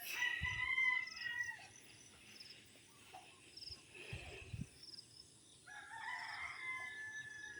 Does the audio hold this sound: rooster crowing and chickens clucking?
yes